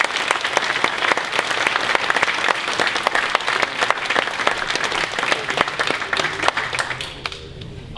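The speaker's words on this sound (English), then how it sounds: "One more round of applause." A crowd applauds loudly and continuously at a university alumni awards and Hall of Fame induction ceremony, a dense wash of clapping that thins out and fades toward the end.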